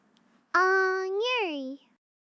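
A single drawn-out meow voiced by a person imitating a cat, rising and then falling in pitch before cutting off.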